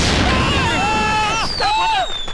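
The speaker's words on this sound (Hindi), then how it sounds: "बाहर बाराती पटाखे फोड़ रहे हैं।" Firecrackers set off outside by a wedding procession, loud booms and crackling bursts with whistling, descending tones over a busy, noisy background.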